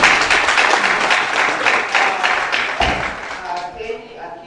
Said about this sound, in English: Can we clap for her again?